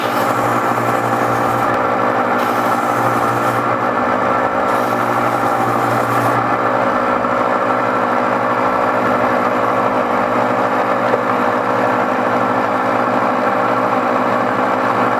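Gem faceting machine running at high speed with a water drip while a Madeira citrine is cut: a steady, continuous motor hum and whine with a few shifts in tone, holding level throughout with no talking.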